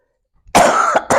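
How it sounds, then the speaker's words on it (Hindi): Two quick coughs from a single person, close and loud, with a short gap between them and nothing else in the background. "खांसी हो रही है और खांसी के बाद ज़रा तबीयत ऐसी हो जाती है"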